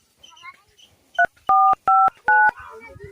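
Four loud DTMF tones ring out one after another on a phone being dialed, the first short and the rest longer, with murmured voices faintly underneath before and after.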